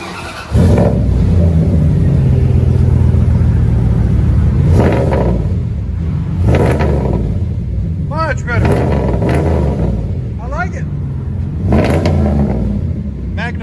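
A Dodge Ram 5.9L Magnum V8 pickup with a MagnaFlow exhaust idles with a deep rumble, then revs in several sharp bursts that rise and fall, loud and close, with people talking over it.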